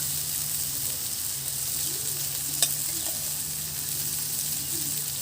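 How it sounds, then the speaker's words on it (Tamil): Quail tandoori fries gently in oil over a low flame, a steady soft sizzle with a faint hum beneath and one brief click partway through, no voices. "நல்லா கொஞ்சம் லைட்டாக ஸ்லோ ஃப்ளேம்லேயே வச்சுட்டு இது நல்லா ஃப்ரை பண்ணுங்கள்."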